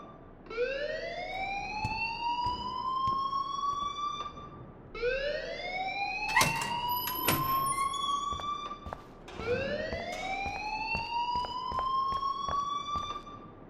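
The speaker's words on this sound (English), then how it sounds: "please turn off that alarm since that's your job" A rising, repeating electronic alarm wails in the video game Life Is Strange, three long upward sweeps with a brief burst of clatter in the middle, loud and steady with no voices.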